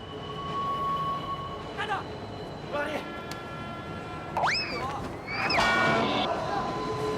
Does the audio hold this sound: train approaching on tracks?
yes